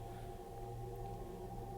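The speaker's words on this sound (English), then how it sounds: "This is the sound of the planet Jupiter." Sonification of planet Jupiter's electromagnetic waves recorded by a satellite: a faint, low droning hum with layered steady tones and a slight wavering texture, continuous and without voices.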